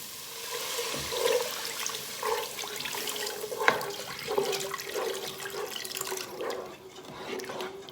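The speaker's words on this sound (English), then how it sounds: "and then I will add my vegetable broth." Vegetable broth pours into a pot of roasted bell pepper soup with a steady watery splashing and gurgling, close and moderately loud, with small bubbling plops throughout.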